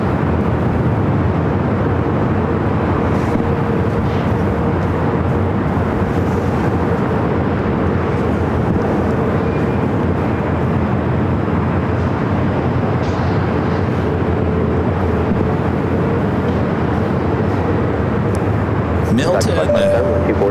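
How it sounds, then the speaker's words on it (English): A Delta Boeing 757-200 taking off from runway 24 left on the north side of LAX, a sustained heavy jet roar with a faint engine tone, continuous throughout and loud, with voices talking over it. "A Delta 757-200, second up for takeoff here on the north side"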